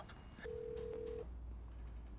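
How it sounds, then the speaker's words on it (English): A phone rings inside the Need for Speed Unbound video game: one faint, steady electronic tone lasting under a second over a low background hum. "Hey, what phone is that?"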